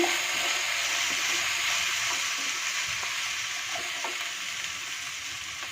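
Vegetables for masala vegetable semiya (vermicelli) sizzle steadily in a pan while being stirred, with continuous frying hiss and occasional scraping clinks, no talking.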